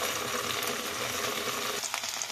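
Okra frying in a pan gives a steady, close broadband sizzle that runs unbroken, with a slight dip and shift near the end.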